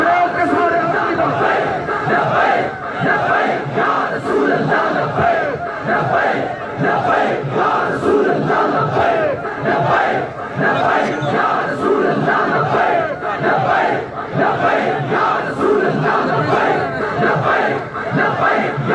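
Large crowd at a Tajdar-e-Khatm-e-Nabuwwat long march rally chanting slogans in loud, continuous rhythmic waves, dense massed voices filling the whole stretch without pause.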